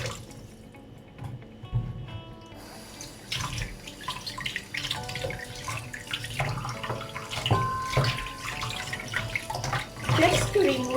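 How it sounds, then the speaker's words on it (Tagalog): Pork rib pieces are rinsed under a running kitchen tap, with water splashing and trickling steadily over the meat and clattering in the sink. Small knocks of handling come through, and the flow gets louder toward the end. "Wash the pieces under tap water to take away the dirty bits."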